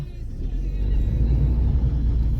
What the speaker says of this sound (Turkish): Evet patinaj çekerek kalkıyor.